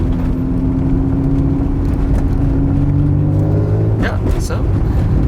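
Cabin of a supercharged Acura NSX with the windows up: a steady low engine drone and whir fills the interior, rising briefly in pitch near the end as the car accelerates, loud and continuous.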